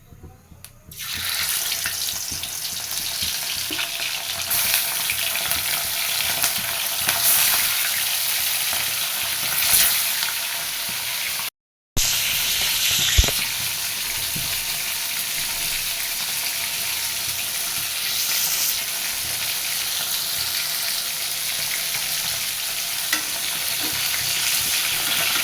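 Tilapia fillet sizzles steadily in hot oil in a pan, a dense continuous frying hiss with occasional stirring scrapes, broken by one brief pause midway before resuming at the same close, even level.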